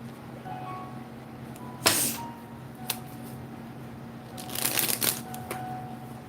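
Tarot cards are shuffled in quiet bursts, one sharp riffle near the start, a small tap, then a longer flurry of shuffling toward the end over a faint background hum.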